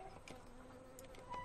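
Buzzing of a bee swarm in the horse game Star Stable, a continuous quiet hum with faint fluttering wingbeats and a few brief ticks, heard alone without speech.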